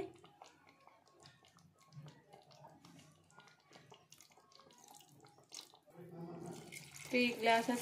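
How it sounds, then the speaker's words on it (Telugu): Water runs and splashes into a cooking pot for a country chicken curry, building louder toward the end, with scattered clinks and faint voices earlier. "ఇప్పుడు మనము ఒక 3 గ్లాసెస్ వాటర్ యాడ్ చేసుకోవాలి"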